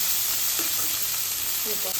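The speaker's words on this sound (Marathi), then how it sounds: "कोथिंबीरीची अशी फोडणीमध्ये अशी कोथिंबीर फ्राय करून घेतली की चव खूप छान लागते" Coriander leaves frying in hot tempering oil in a pan, giving a steady close sizzle throughout with a few brief stirring clinks, no talking.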